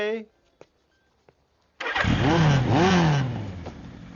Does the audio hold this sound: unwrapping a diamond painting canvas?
no